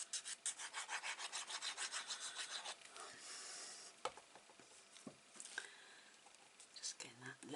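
Paper is rubbed down onto an 8 x 10 mini album page in quick rhythmic strokes for about three seconds, followed by softer scattered rubs and handling noises close by.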